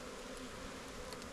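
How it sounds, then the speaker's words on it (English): A mass of honey bees being installed from a package into a hive hums as a close, steady buzzing drone with faint individual bee passes, and no one speaks. "Take these bees and dump in there, turned upside down"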